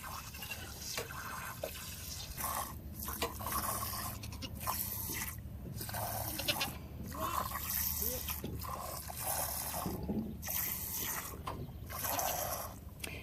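Milk from a goat being hand-milked squirts into a pail in a steady, rhythmic series of short hissing spurts, each stroke repeating about every second, close and fairly quiet with no talking.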